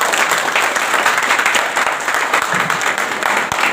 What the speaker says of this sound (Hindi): उनके लिए एक बार जोरदार ताली हो जाए।